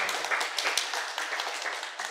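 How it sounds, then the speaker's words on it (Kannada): Audience at a meditation and satsang program in Channapatna giving loud, sustained applause for Brahmarshi Subhash Patriji, with many hands clapping together in a dense, steady patter from a nearby gathering. "ಒಂದು ಸಾರಿ ಜೋರಾಗಿ ಚಪ್ಪಾಳೆ ಮೂಲಕ ಅಭಿನಂದನೆ"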